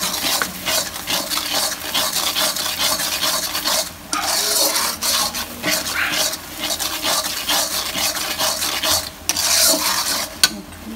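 Spice paste is stir-fried in a pan with loud, rasping spatula scrapes in a continuous rhythm over a sizzle, broken by a few short pauses.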